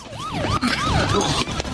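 Police patrol car siren in a drama scene, a loud wailing tone sweeping up and down in quick repeated cycles, close and alone with faint vehicle noise beneath.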